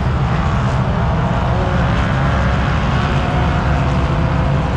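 A drone hovers above the sand dunes at Glamis during a Red Bull Sand Scramble event, its steady loud buzzing whir continuous and close throughout.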